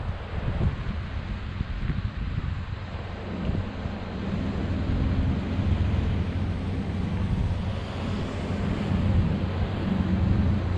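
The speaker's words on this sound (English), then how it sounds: "so what you're hearing is the waves, the wind" Ocean waves and gusting wind at Ruby Beach on a rainy day, a steady, broad roar of surf and wind buffeting the microphone with no pauses, loud and continuous throughout.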